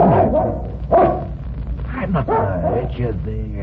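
A dog growls and barks close by at a grave mound while someone speaks to it soothingly, its low snarls and yips tangled under and between his words throughout.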